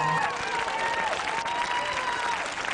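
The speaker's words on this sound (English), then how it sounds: "let's give him a big round of applause" Audience applause at a show at Dominican College, a dense steady wash of clapping from a crowd that holds evenly for the full stretch, with no voices over it.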